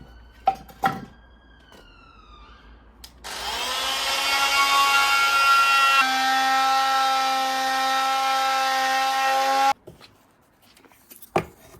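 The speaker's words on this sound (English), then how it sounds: "Multi-tool." An oscillating multi-tool cuts wood while repairing an old garage, a loud high-pitched whine that runs steadily for about six seconds between short bursts of knocking and handling noise, with no talking.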